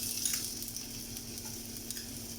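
A pinch of asafoetida (hing) sizzles in hot oil, giving a soft, steady crackling hiss under a faint constant hum, with no talk.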